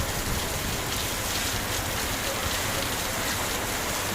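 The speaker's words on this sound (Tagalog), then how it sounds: "Ang lakas ng ulan, oh." Heavy rain from a typhoon pouring in a dense, steady roar with wind, no pauses or voices.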